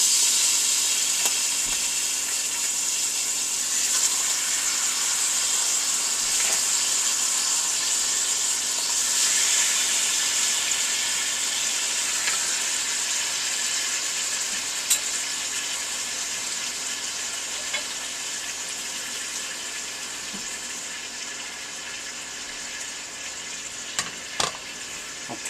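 Pork cutlets fry in a pan over medium-low heat with a continuous, even sizzle and hiss, close and steady throughout, with a few faint clicks near the end.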